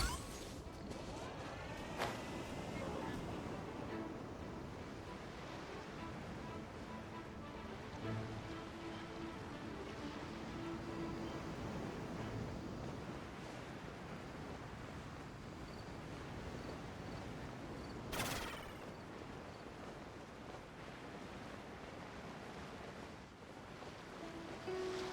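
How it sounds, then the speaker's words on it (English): Calm ocean waves in the video game Genshin Impact, a steady soft wash of surf with light wind, continuous and gentle, with a couple of faint brief knocks. "Waves are as calm as always."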